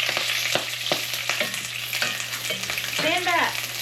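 Food frying in bacon fat in a hot pan sizzles steadily and loudly up close, with a few sharp utensil clicks and a brief rising squeal near the end, and no voices.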